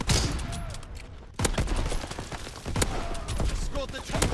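Rapid gunfire in a Call of Duty multiplayer match on PS4, sharp repeated shots in bursts with crackling impacts, loud and close, mixed with game voice callouts.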